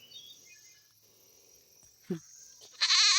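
Goats bleat in the distance, then one loud, close bleat bursts out at the end amid faint outdoor background.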